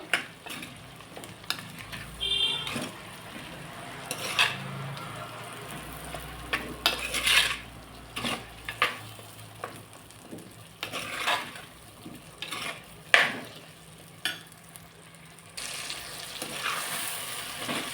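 Brinjal pieces sauté in a hot pan for a dried-fish curry, a steady close sizzle broken by repeated scrapes, clinks and knocks of a spoon stirring against the metal, with no talking.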